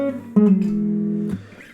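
Quick guitar riff, a few fast consecutive notes with sharp plucked attacks followed by a ringing sustained tone that cuts off, played close with no voices.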